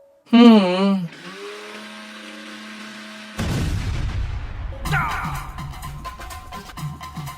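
A worn-out kitchen mixer grinder, received as a wedding gift, whirs loudly at night, its motor grinding steadily after a brief voice and a sharp tonal sound at the start.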